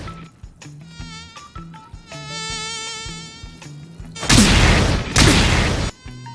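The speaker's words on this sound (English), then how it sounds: "suddenly a mosquito appears and starts his fight against Saitama" A mosquito buzzes in an anime fight scene, thin whining tones over music, then two loud, dense blasts of noise toward the end.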